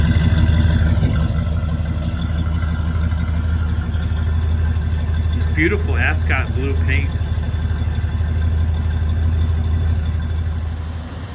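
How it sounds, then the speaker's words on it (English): A 1972 Chevrolet Monte Carlo with a 350 small block V8 idles close by in a steady, deep rumble, while someone talks briefly over it partway through. "I'll take the sound of a small block too."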